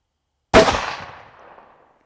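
A single loud hunting rifle shot at a target range, a sharp crack followed by a rolling echo that fades over about a second, with no talk.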